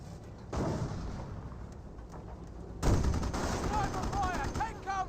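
Artillery barrage in the video game Company of Heroes, with heavy booming blasts and rattling gunfire in two loud waves. A commentator talks over the battle noise.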